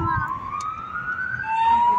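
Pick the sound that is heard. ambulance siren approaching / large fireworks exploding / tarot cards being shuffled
ambulance siren approaching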